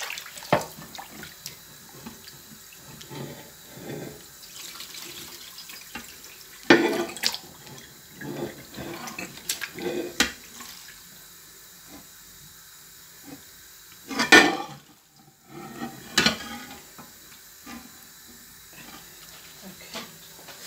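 Tap water running over goat and chicken meat being rinsed for curry, a steady hiss of flowing water broken by occasional splashes, clatters and handling knocks near the sink.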